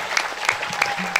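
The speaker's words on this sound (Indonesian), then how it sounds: "mana tepuk tangan penuh berkahnya dari Al-Bayyinah untuk Kaila" Audience applause at an anniversary celebration of a modern Islamic boarding school in Tangerang, Banten: steady clapping from a crowd with a few louder bursts, close and continuous, no talk over it.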